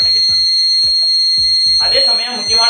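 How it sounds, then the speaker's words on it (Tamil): An IoT water leakage detector's buzzer sounds a steady, piercing electronic tone that holds unbroken for the whole moment while a person talks over it in short bursts. "இதில் வந்து பாருங்கள் பஸ்ஸர சவுண்ட் வருது."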